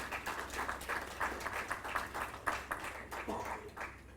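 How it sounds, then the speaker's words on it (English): Steady round of applause from the audience at a Lelean Memorial School celebration in Fiji, honouring the Education Minister and team; dense, even clapping held fairly faint and distant throughout. "Another round of applause for the Honorable Minister and the team."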